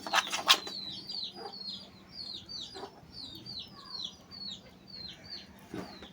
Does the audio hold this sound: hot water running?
no